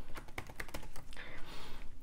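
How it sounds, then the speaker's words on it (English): Keys clatter on a computer keyboard during design work, a quick run of close, crisp taps with short pauses and a faint voice underneath. "I'm gonna hit T on my keyboard."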